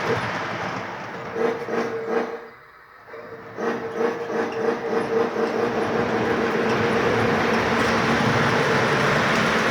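A model train (custom Lionel Dreyfuss Hudson locomotive) runs along the track at maximum speed with a steady rumble and rhythmic clatter, a hiss and tonal whine on top, briefly quieting midway before picking up again.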